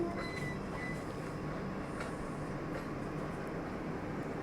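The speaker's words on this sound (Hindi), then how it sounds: "बट वंदे भारत राजधानी को ओवरटेक करके आगे आगे आती है" A Vande Bharat express train runs past on the line with a steady, loud rumble of wheels on rails. Faint metallic squeals and clatter ride on top of the continuous roar.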